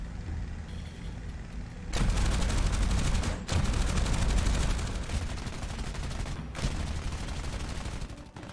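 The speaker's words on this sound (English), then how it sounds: "Jack Doyle approached one of the Macchis and opened fire from about 200 yards." Machine gun fire from a Spitfire fighter attacking an Egyptian Macchi C.205V, long dense bursts of rapid shots over a droning engine, loud and continuous with brief breaks, no one talking.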